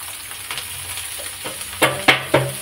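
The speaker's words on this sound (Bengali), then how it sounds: "তেল গরম হয়ে গেছে, এই তেলে আমি বাঁধাকপিগুলো দিয়ে দেবো" Cabbage drops into hot oil in a pan and crackles, a soft sizzle rising to three loud, close bursts of frying and stirring near the end, with no voice.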